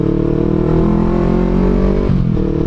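Yamaha R25 motorcycle engine running loud and close, a steady throbbing idle-to-mid rev that briefly drops and shifts pitch near the end, without talk.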